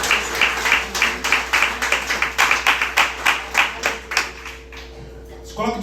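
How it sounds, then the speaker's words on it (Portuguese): Church congregation clapping together in a steady, rhythmic beat, loud and close, the applause thinning and fading toward the end. "Você pode aplaudir ao Senhor com o seu melhor."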